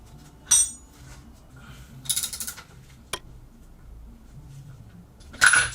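A ratchet tightens an engine accessory belt in a few separate bursts of quick metallic clicking, close and distinct against a quiet background, with no talking.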